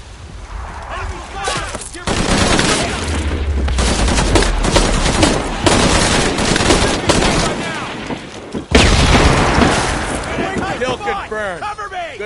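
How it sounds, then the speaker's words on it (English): Sustained enemy gunfire in Shadow of the Tomb Raider, dense volleys of rapid shots and bursts running nearly the whole stretch at high level, with a sharp loud surge near the end, mixed with game voices talking. "Enemy fire! Get ready!"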